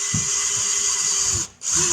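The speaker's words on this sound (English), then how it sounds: "Drills not holding onto the bit." A power drill with a keyless chuck whirs steadily at high speed, close and loud, then cuts out briefly and spins back up near the end, running alone without talk.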